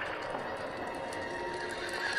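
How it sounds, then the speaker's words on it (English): Horses galloping in the opening episode of Game of Thrones, a quick dense patter of hooves with whinnying, fairly close under a tense continuous score. "the horses are booking it"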